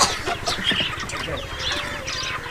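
Chickens and roosters cluck and squawk in a noisy flock close by, with scattered overlapping calls throughout a short busy stretch.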